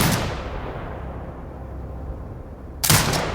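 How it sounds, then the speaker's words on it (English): Turret fire from the game Sniper Ghost Warrior Contracts 2, set in a desert: a sharp, loud gunshot-like blast near the end, after a steady low rumble and an initial burst of noise. "Exit binocular mode and command the turret to fire."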